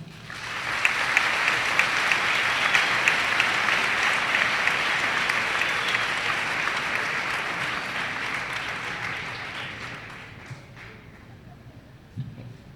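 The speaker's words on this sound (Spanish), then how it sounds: "Un fuerte aplauso a Jorge Gracia." A room full of people at an architecture symposium lecture claps steadily for about ten seconds, the applause gradually thinning and fading out.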